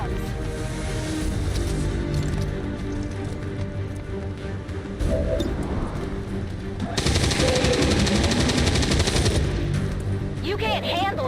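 Rapid bursts of video-game gunfire at a target range, loud repeated shots in clusters that grow denser toward the end, with game sounds mixed in.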